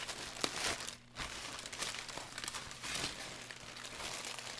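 Close crinkling and rustling of a small plastic bag being unwrapped, continuous with brief sharper crackles and a short pause near the start.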